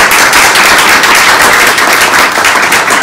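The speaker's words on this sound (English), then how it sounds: "Let's give Bea a big round of applause for her." Dense, loud applause from an audience at a health care discussion event, steady and sustained throughout with no voices over it.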